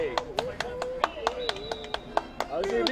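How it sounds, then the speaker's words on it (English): Sharp hand claps in a steady run of about a dozen evenly spaced strikes, heard close during a casual Super Smash Bros. tournament gathering, with voices talking over and between them. "Even Charizard's clapping"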